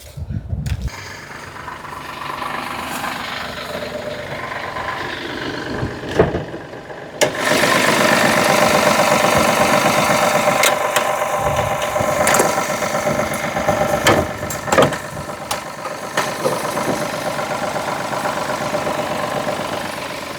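A diesel car engine idles with a steady, rattling clatter close by, running continuously with a few louder knocks and a brief pause near the start.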